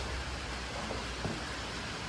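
Steady rain falls outside during a spell of wet weather, a continuous even hiss that fills the whole clip at moderate level with no voices.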